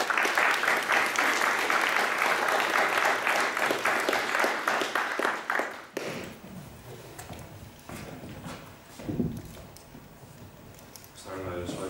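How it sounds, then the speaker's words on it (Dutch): Warm applause from an evening lecture audience for the first speaker, a dense, lively clatter of many hands for about six seconds that stops abruptly, followed by quieter room noise and shuffling. "Dan zou ik nu graag een hartelijk applaus willen vragen voor ons eerste spreker van de avond"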